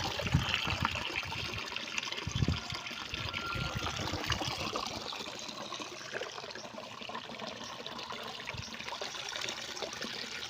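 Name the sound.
water flowing through bonsai aerator connection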